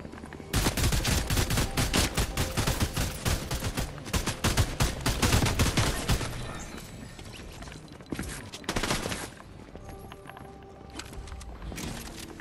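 In the Fortnite battle royale video game, rapid loud gunshots crack in a dense volley for about six seconds, followed after a lull by a few scattered, fainter bursts.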